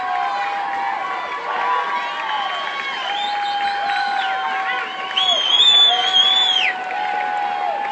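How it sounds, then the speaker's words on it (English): A crowd at a high school football playoff game between LC and Jefferson cheers and yells continuously, with whistles and shouts rising briefly louder midway through. "Crowd over here on this side here is going crazy"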